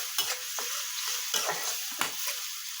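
Ginger paste fries with a steady sizzle in a pan while a spoon scrapes through it in several distinct strokes, close and fairly quiet, with no talking.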